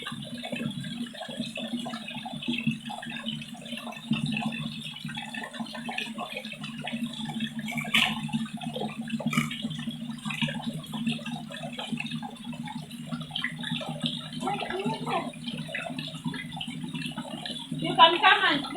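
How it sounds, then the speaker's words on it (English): Water runs steadily from a handmade tap set up at a river, a continuous gentle trickle and splash heard close throughout, with a slightly louder splashing swell near the end. "That's how actually we make our tap, so that you can get water flowing so well."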